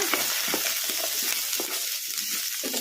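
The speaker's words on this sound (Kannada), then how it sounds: "ಉಳ್ಳಾಗಡ್ಡಿ ಲೈಟ್ ಬ್ರೌನ್ ಕಲರ್ ಬರೋವರೆಗೂ ಫ್ರೈ ಮಾಡ್ಕೊಂಡ್ಬಿಡೋಣ." Chopped onions sizzle and crackle steadily in hot oil on a medium-high flame, with occasional stirring scrapes, loud and close throughout.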